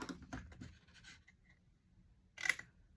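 Paper for 15x15 scrapbook album pages being folded and creased by hand, giving faint, soft rustles and scrapes and ending in one short, sharper crinkle near the end.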